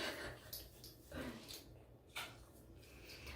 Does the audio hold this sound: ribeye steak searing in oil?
no